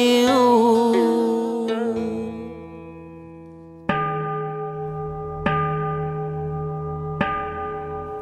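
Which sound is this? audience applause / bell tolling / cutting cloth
bell tolling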